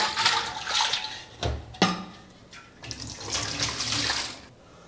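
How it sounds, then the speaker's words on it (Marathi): Water swishes and sloshes in bursts while rinsing a clay water pot, with a couple of sharp splashes partway through, close and fairly loud with no talking. "आता परत थोडंसं पाणी घालू परत चांगलं विसळून घेऊ"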